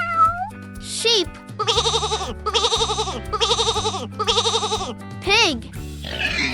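Sheep bleating in a string of four wavering, quavering calls of even length over a bouncy children's music backing, with a short sung or spoken phrase at the start and end.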